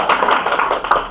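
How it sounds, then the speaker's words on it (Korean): Brief clapping from a lecture audience after a musical performance, a short burst of hand claps lasting about a second. "박수 한번 해주세요."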